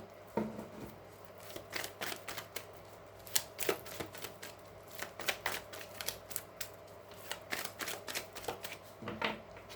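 Tarot cards are shuffled by hand in a quiet room, a steady run of soft riffling slaps and flicks with short pauses between bursts, close and moderately loud with no talking.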